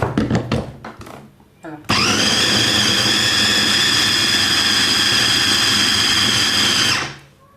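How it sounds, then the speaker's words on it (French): A kitchen blender purees cassava for foutou, starting abruptly after a few handling knocks and running as a loud, steady whir for about five seconds before spinning down. "Et maintenant, je vais mixer le manioc."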